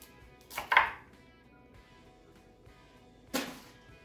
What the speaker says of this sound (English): I'm going to chop 2 heads of broccoli